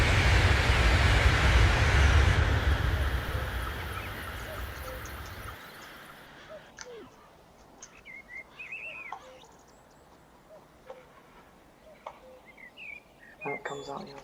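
An H5 Shinkansen on the Tohoku high-speed line runs at 305 km/h with a loud, dense rushing roar that suddenly drops to a quieter hum, with faint scattered chirps and tones over it.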